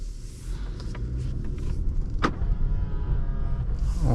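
A car's electric motors whirring briefly after the car is shifted into drive, a short mechanical buzz over a steady low cabin hum, with a single sharp click partway through.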